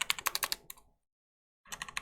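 Crisp, rapid keystrokes on an ASUS TUF Gaming K3 mechanical keyboard with red switches, a dense run of clicks that stops briefly, then resumes as another quick burst of typing, close and alone.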